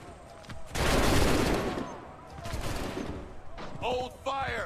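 Musket volley fired by a line of soldiers in Assassin's Creed III, a loud crackling burst of many shots that rings out and fades, followed by a second ragged burst, with shouted commands around it.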